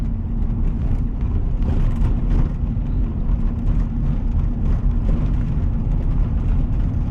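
A 1998 Chevrolet Silverado C1500 pickup with 276,000 original miles, its engine running with a steady low rumbling drone and slight surging, heard close and alone.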